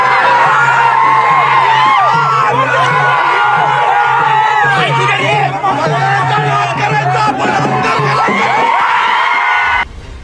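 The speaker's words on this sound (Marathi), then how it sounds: "पाटील कुटुंबानं समर्थकांसह एकच जल्लोष केला" Dense crowd of supporters cheering, whooping and shouting to celebrate the Patil family's panchayat election win, a steady loud roar with high excited voices and chatter throughout, cutting off abruptly near the end.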